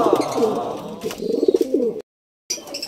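Racing pigeons arriving home at a loft during a sprint race coo steadily in soft, rolling phrases, with rustling and light chirps in the background. A brief gap in the sound breaks the cooing before it resumes.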